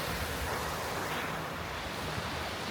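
Calm sea washes onto a quiet beach on Koh Phayam, Thailand, as a steady, even surf hiss mixed with light wind noise, with no distinct breaking crashes.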